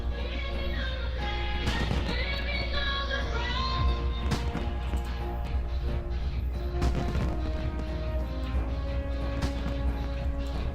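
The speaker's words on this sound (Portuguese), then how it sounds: "Altos fogos, mano." New Year fireworks burst inside the World of Warcraft game in Orgrimmar, a string of sharp pops and crackles scattered over steady background game music, with voices talking excitedly over them.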